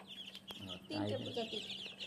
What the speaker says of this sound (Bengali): এখানে কি কি মুরগির বাচ্চা আছে এখানে আছে টাইগার টাইগার আছে আর হচ্ছে ফাউমি আর দেশি